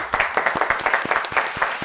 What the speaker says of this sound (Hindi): ये तालियां कम है